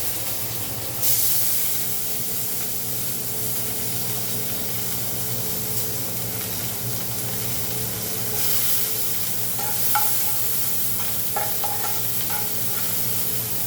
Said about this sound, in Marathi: नंतर टाकू आपण टमाटर.